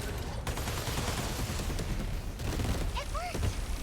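Rocket launcher firing in the mecha game 13 Sentinels: Aegis Rim, a dense roar of blasts and explosions packed with rapid bursts, loud and continuous, with game effects and voices mixed in.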